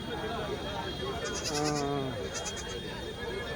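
A single wavering bleat from a sheep or goat rises above the steady crowd din at the weekly sheep and ram market in Kadiri, with people talking in the background.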